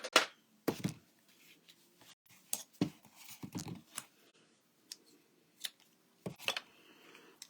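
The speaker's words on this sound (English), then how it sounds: "I am going to wrap this around a couple times, cut it off" Scissors snipping white baker's twine, several sharp crisp cuts and soft rustling clicks spaced irregularly, close and fairly quiet, with no talking.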